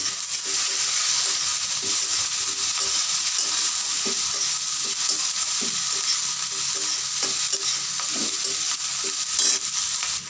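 Chopped capsicum for a spiced pickle fries in a pan: a steady, close hiss of sizzling oil with soft, regular scraping stirs every second or two, no talk.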